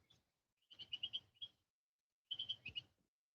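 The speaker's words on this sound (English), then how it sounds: "You hear them birds?" Birds call outdoors in two short bursts of quick, high chirps separated by a pause, faint and fairly distant.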